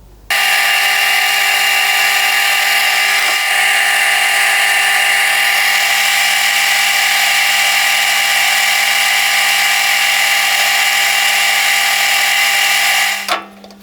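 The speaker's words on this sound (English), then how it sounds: "I'll set that back up in the chuck and drill and tap at M3" Power drilling into a part held in a lathe chuck, drilling and tapping an M3 hole, a loud steady whining drone with a constant high pitch that runs unbroken for about thirteen seconds before cutting off.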